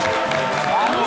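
A studio audience applauding and cheering guests on a French evening entertainment show, a thick, loud roar of claps and voices with a whoop rising through it, sustained the whole time.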